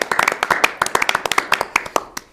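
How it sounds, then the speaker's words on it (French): Clapping from a small group, sharp close hand claps in a quick, uneven rhythm, bright and distinct rather than a dense crowd roar. "Allez, voilà, on les applaudit."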